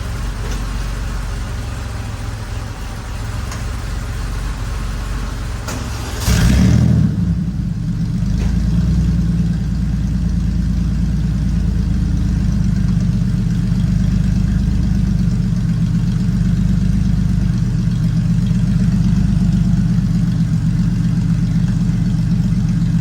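A Porsche 964 flat-six on its stock exhaust idles steadily with a muted low rumble, gives a brief rev blip, then settles back into a smooth, quiet idle.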